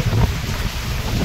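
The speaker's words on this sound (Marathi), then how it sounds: "वारा जबरदस्त आहे" Strong wind buffets the microphone on a rainy hilltop, a loud, steady low roar with gusty surges across the whole moment and no voices.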